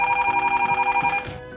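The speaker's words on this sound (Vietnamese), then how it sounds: "Tiếng chuông điện thoại đột nhiên vang lên cuối cùng cũng phá vỡ bầu không khí căng thẳng" A telephone rings with a loud, close, rapidly warbling electronic bell that trills steadily for about a second before cutting off, with no voices.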